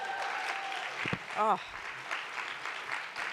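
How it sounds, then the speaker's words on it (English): An event audience applauding a speaker at a mother awards ceremony, continuous crowd clapping with a brief spoken exclamation over it. "Round of applause for Monica one more time."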